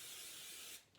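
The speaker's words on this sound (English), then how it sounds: "Okay, you hold it and I'll spray." Cooking spray hissing onto a baking pan in one steady, close burst lasting most of a second, then cutting off to quiet room sound.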